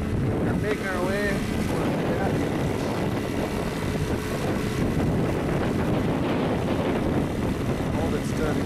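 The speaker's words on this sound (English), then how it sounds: "It's very windy." Strong wind roars across the microphone on a small trailer sailboat heading out through the Everglades, a constant buffeting rush over low engine or water rumble, with faint voices briefly audible.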